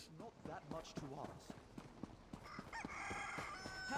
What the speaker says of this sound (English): So I got distracted by the chicken.